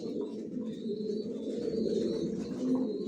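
Johnson line racing pigeons coo in a low, steady, overlapping murmur throughout, close and moderately loud, with faint higher chirps above; no talking.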